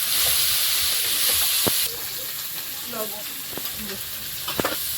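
Chopped ginger and tomato fry in a pan for a Bengali fish and vegetable dish, giving a steady hiss of sizzling oil with a few sharp stirring scrapes and clicks throughout.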